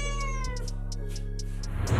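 A cat meows repeatedly while being bathed, a string of close, loud, harmonic cries with short breaks between them and water-like noise building toward the end.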